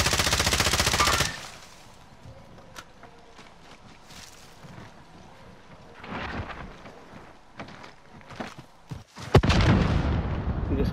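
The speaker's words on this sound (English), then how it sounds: "Fucking shot a rocket at me" A rocket fired in a first-person shooter game hits with a loud, roaring blast at the start, then quieter scattered gunfire follows, and a second heavy burst erupts near the end.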